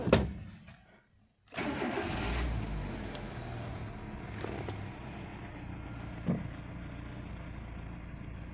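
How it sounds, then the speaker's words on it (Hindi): A Renault Duster petrol engine, recently fitted with a new throttle body, cranks briefly, falls silent, then fires and settles into a steady idle with a few small bumps in the revs, close and clear. "अभी देखते हैं गाड़ी स्टार्ट करके।"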